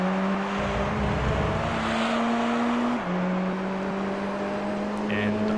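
A 4WD race car in Gran Turismo 3 holds a steady, loud engine drone, with a sharp gear shift about midway, and tyre and track noise running under it. Someone talks over the engine.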